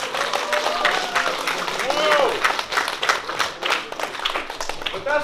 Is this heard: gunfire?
no